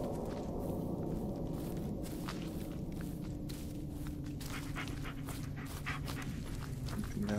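In the Blair Witch video game, a dog pants steadily and close while footsteps shuffle along a path, over a constant low ambient rumble.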